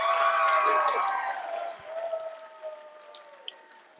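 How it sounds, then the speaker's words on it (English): Crowd at a graduation motivation event applauding and cheering for the class of 2024, a loud burst that tapers into scattered claps and whoops, with voices mixed in. "And I want you guys to give a huge round of applause for the class of 2024."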